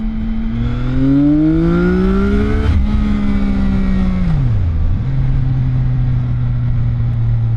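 A CFMOTO 675NK motorcycle engine revs hard and loud up close, the pitch climbing steadily, peaking near the third second, then dropping back and settling to a steady high idle, with no talking.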